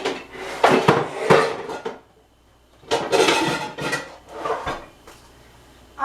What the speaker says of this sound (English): I will just grease the pan and that'll be it.